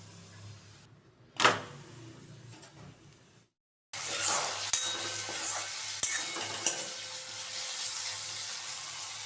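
A layered paratha cooks in a pan with very little oil; after a quiet stretch with a clatter and a brief gap, a steady, fairly loud sizzle sets in with occasional sharp clicks of a utensil.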